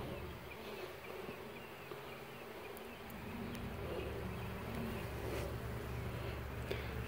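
A dense, steady buzz of many honey bees swarming close by, continuous and droning throughout with no talking.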